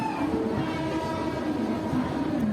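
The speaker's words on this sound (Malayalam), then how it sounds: "ഇത് ഏതോ ഒരു LHP ട്രെയിൻ പോകുന്നുണ്ട്" An LHP passenger train rolls past with a loud, steady rumble, and sustained horn-like tones ring through the whole passage without any talk.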